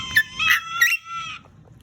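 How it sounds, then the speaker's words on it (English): A pet parrot lets out a few bright, squawky calls in quick succession, close and fairly loud, over a faint low background. "You're such a nice bird."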